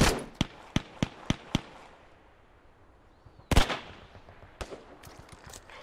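Gunfire in the World War II shooter Hell Let Loose: five sharp rifle shots in quick succession, then a louder blast and scattered, more distant shots against a quiet background.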